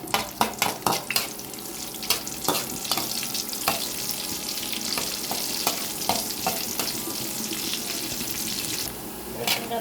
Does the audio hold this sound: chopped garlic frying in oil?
yes